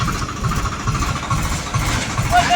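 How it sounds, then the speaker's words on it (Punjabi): A tractor engine idles with a steady, low rumble and a slight uneven throb, fairly close and moderately loud throughout. "ਲੱਗਿਆ ਟਰੈਕਟਰ ਚਲਾਉਣ ਇੱਥੇ"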